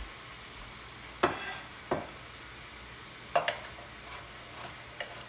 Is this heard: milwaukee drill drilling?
no